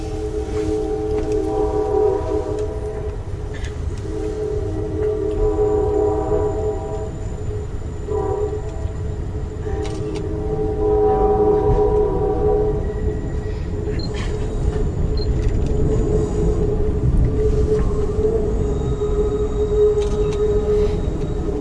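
A passenger train rolls steadily across a double-decker steel bridge near Sacramento with a continuous metallic rumble, broken by several repeated blasts of its horn. No voices.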